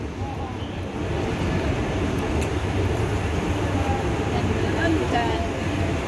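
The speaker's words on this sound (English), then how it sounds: "Yung train na yan." Steady low rumble of a train running on the rails between Dublin and Manchester, continuous and fairly loud throughout, with a faint voice under the noise.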